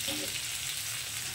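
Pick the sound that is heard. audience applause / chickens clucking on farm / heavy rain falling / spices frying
spices frying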